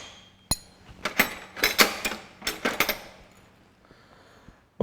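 Metal socket for 1/2-inch bolts clinking as it is picked up and handled on a 1954 Ferguson TEA20 tractor during timing cover removal, a run of close, light metallic taps and rattles with no talk.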